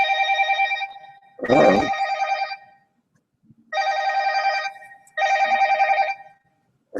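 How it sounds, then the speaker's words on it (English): Telephone ringtone with a harmonic electronic tone sounding in three loud bursts, the first briefly overlapped by a man's short vocal sound and a thump, with gaps of silence between rings. "I'm getting a phone call."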